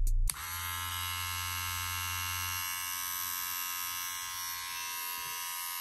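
A BaByliss Gold FX hair trimmer switches on with a brief click and then runs alone at close range, a steady, fairly quiet electric buzz and hum that holds evenly for several seconds.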